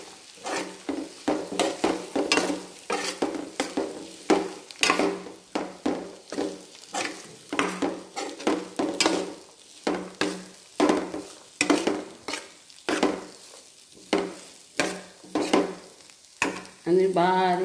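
A spoon stirs a dal preparation frying in a pan over gas, with repeated scraping strokes in an uneven rhythm over a soft sizzle, close and clear.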